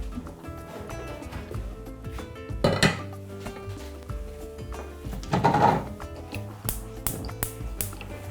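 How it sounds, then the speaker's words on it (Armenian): A large metal cooking pot is lifted and set down in a home kitchen, giving two clanking, rattling bursts of metal contact with lighter taps and clinks between them, close by. "Վերցնում ենք մեծ կաթսան"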